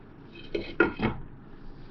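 A lid set over a pan of beef Bihari kabab, giving three quick metallic clanks in under a second, close and fairly loud against a quiet kitchen background.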